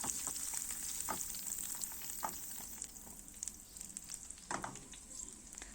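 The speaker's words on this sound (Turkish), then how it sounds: "Yakmadan görüyorsunuz ağır ateşte yavaş yavaş çevire çevire kızartıyorum." Steady frying sizzle of hot chili peppers in a pan over low heat, continuous hiss with occasional louder pops and stirring scrapes, close up, no talking.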